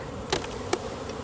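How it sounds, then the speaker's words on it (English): Worker honeybees buzz at a backyard hive in a steady, close, soft drone, broken by two faint sharp clicks. "these are all girl bees, worker bees"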